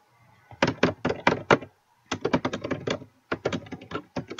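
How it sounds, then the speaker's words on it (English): Computer keyboard typing heard up close, loud rapid clacking keystrokes in three bursts separated by brief pauses, with no talking. "Sorry if you guys wanna see me typing"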